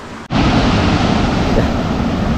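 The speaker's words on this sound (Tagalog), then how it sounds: "Napakalakas ng alon." Strong sea waves break on a calm, windless shore, a loud, broad roar that starts abruptly after a brief dip and rushes on steadily with no talk.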